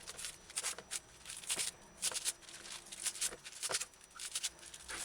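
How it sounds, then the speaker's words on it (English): Cooking scissors shred pak choi in rapid crisp snipping and shredding sounds that repeat in uneven bursts, close and moderately loud, over a faint background hum with no speech. "Put it on a chopping board or use a cooking scissors like me."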